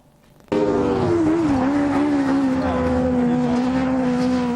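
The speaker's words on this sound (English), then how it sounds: "The thrill of racing cars at Nottingham's Autograss track" Racing cars roar around an autograss track in Nottingham, bursting in suddenly after a quiet moment as a loud, sustained engine drone with shifting pitch and heavy rumble, continuous to the end without speech.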